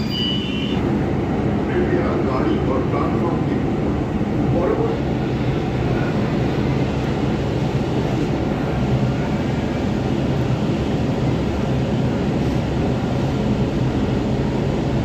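Kolkata Metro train running and pulling into Jatindra Mohan station, a steady loud broadband rumble heard from inside the carriage, continuous throughout with faint voices underneath.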